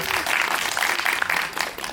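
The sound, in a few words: audience applause for a birthday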